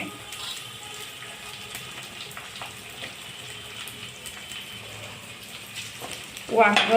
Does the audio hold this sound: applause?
no